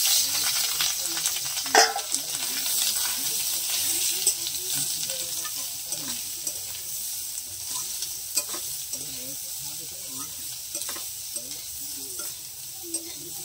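Boiled vegetables and red shrimp are stirred into fried masala for a fish curry with elephant foot yam, giving a steady close sizzle with scraping stirs and a few sharp utensil clacks, no talk.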